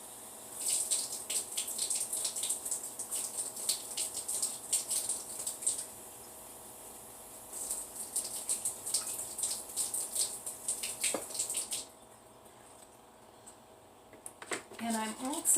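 Half a cup of water pours into a mixture for homemade seitan, a thin trickling stream running in bursts over steady kitchen background noise, close and fairly quiet.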